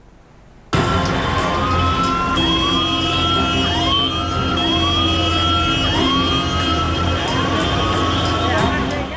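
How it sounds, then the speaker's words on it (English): A stopped ambulance's wailing siren sweeps up repeatedly in a steady rising cycle over a loud idling engine rumble, close by, in halted Bangalore traffic. "A speeding ambulance stopped."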